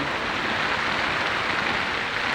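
A dense, steady hiss of heavy rain pours down without a break, with no voices over it.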